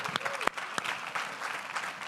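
Audience applause at an evening awards event, a moderate wash of clapping from a crowd with a few sharper individual claps and a faint vocal whoop standing out.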